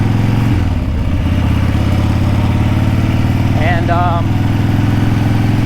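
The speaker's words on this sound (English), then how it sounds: "I might ride this bike a little bit longer than actually I need to for the purposes of testing the intake manifold fix" A Harley-Davidson Ironhead Sportster engine runs steadily and loudly on a test ride after an intake manifold reseal, a deep continuous throbbing rumble close by, with someone briefly talking over it.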